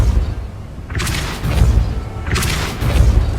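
Repulsor spell cast in Hogwarts Legacy: two heavy booming blasts with a bright crackling burst, about a second and a half apart, over a steady low ambient rumble.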